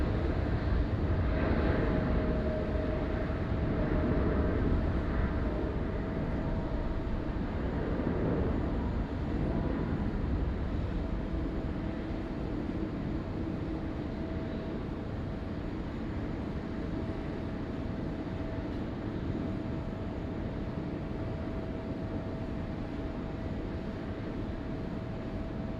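A Japan Airlines Boeing 787 airliner landing at Sydney Airport, heard from a distance as a broad, steady roar of engine and air noise that is loudest early on and then eases into a constant rumble, with no voices.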